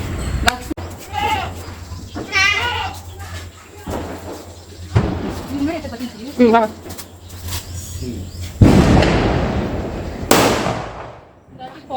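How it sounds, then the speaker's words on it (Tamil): Diwali firecrackers burst loudly outdoors, with two sharp, close blasts near the end, while excited voices talk and call out before and between them. "இது முன்னாடி வச்சதை விட அதிகமாக வெடிக்குது."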